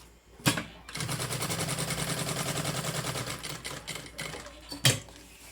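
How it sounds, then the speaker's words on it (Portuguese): Sewing machine stitching fabric to form a shallow pocket for a handmade binder, a steady rapid run of needle strokes after an opening thump, ending with a sharp knock, close and fairly loud. "Começar a costurar aqui em cima"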